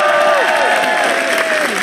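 An audience claps loudly and steadily in an indoor hall, a dense burst of applause with faint crowd noise and no talk over it.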